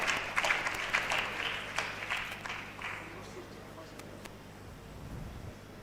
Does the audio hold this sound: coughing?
no